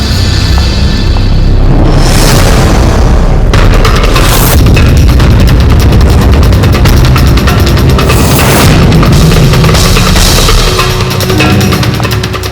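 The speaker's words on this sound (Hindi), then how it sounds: "Nice shot Riya." Loud gunshots at a shooting session, heavy booming blasts with sharp cracks at intervals, continuous and close throughout with no talk.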